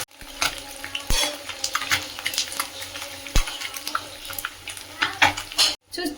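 Fish pieces fry in hot oil, with a steady crackle broken by scraping stirs, utensil clinks and pan knocks, all close by, and no one talking.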